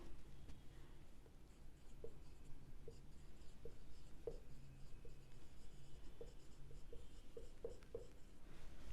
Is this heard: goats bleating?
no